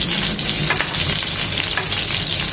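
Four dried red chillies fry in hot oil alongside hilsa fish, giving a loud, close, continuous sizzle with brief stirring scrapes.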